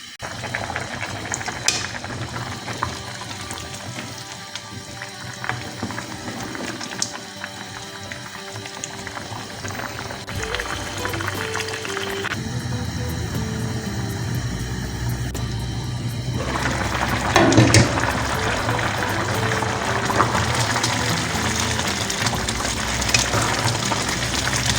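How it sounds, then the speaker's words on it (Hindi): Potato pulao rice simmering covered over medium heat, a steady bubbling and hissing boil that stays close and continuous, swelling a little louder near the end, with no one talking. "इनको कवर करके रख लेते हैं और मीडियम हीट पे इनको पकाते हैं"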